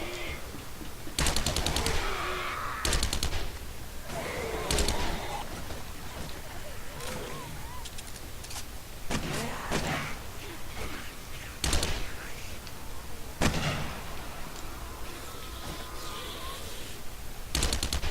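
Rapid bursts of AK rifle fire in the video game 7 Days to Die, several separate volleys of sharp shots spaced across the stretch, loud and close over a steady ambient bed with speech present.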